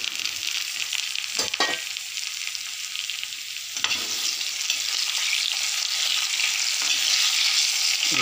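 Mushrooms fry with golden-brown onions in a kadhai, giving a steady, close sizzle with a few sharp stirring scrapes, loud and continuous with no talking.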